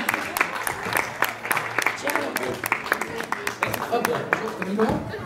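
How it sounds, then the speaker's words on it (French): An audience at a telethon magic show applauds, with dense irregular clapping running the whole way through, and someone talks over the clapping. "on va l'applaudir bien fort"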